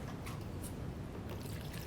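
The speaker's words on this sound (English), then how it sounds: "And we're just going to add a little water." A little water trickles and drips into a container of wood glue being mixed for patching plaster walls, a soft, close liquid sound under a low background hum.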